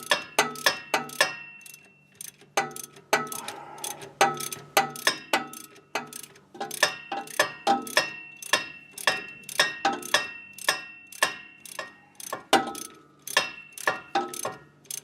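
A ratchet tightens fine thread bolts on a Ford Mustang differential cover, a steady run of close, crisp clicks in quick repeated short strokes with brief pauses between.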